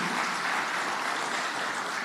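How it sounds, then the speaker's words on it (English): Audience applause for dignitaries at a refractory-industry CEO panel event, a steady, dense wash of clapping filling the hall evenly from start to finish with no voices. "Can we please have a big round of applause for all the dignitaries here?"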